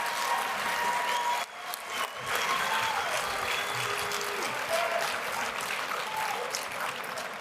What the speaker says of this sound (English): give a big round of applause to your three nominees for alumni spot on the World Council.